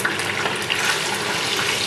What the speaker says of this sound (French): On prend un verre de vinaigre. Et on va le verser dedans.